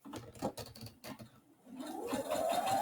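A sewing machine stitches a French seam on a scrubs bag with quiet, close, rapid mechanical clatter in short bursts. A brief pause follows, then a rising whir builds as the stitching speeds up.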